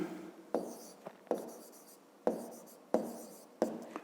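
Pen on paper during a school math exercise, quiet close scratches in a few short bursts separated by brief pauses, with sharp taps where the pen lands.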